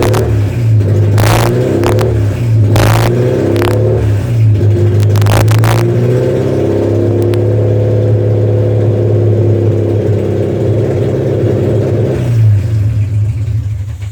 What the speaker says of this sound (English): So here we go for a quick fire up of the engine.